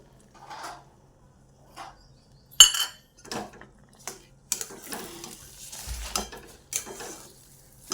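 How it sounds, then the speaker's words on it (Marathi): Pineapple sheera is stirred in a pan as a saffron mixture is added, with a few sparse spoon clinks and soft scraping strokes separated by quiet gaps, heard close up with no speech. "आता यामध्ये मी जे केसर मिक्स करून ठेवलेलं होतं आता ते घालून घेते"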